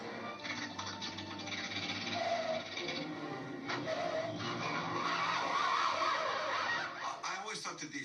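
A car pulls up in a Looney Tunes cartoon, sounding with a brief engine and tire screech under someone talking over the soundtrack.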